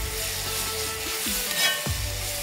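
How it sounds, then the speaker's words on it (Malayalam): Minced beef mixture frying and being stirred in a pan for a spicy Kerala beef thoran, a steady close sizzle with a few scraping stirs of the spoon and no talk. "നല്ലോണം ഇളക്കി ജസ്റ്റ് എല്ലാം മിക്സ് ആവാൻ വേണ്ടിയിട്ട് ഇളക്കി കൊടുക്കുക."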